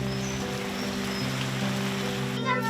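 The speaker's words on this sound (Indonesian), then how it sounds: "Namun hujan mendadak menghentikan waktu bermain mereka." Rain falls in a steady, hissing wash under a constant low tonal hum, with no voices.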